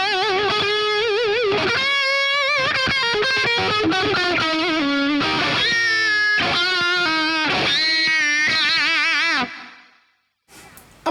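Electric guitar played through a Friedman Runt 20 amp with delay and reverb, loud overdriven chords and sustained single notes with wavering vibrato ringing for about nine seconds before cutting off into near silence.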